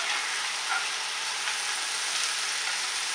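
A chicken and mushroom mixture fries in a pan with a dense, even hiss close by, the stirring barely standing out from the continuous sizzle.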